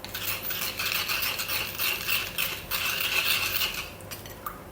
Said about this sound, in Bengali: সুন্দর করে মিক্স করে নিতে কর্নফ্লাওয়ারটা